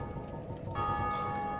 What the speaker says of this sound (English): Good job to whoever rang the bell